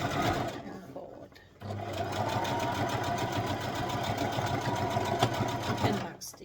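A sewing machine back-stitches a small cosmetic bag with a fast, rhythmic mechanical whirr that pauses briefly, then runs steadily close to the microphone before stopping.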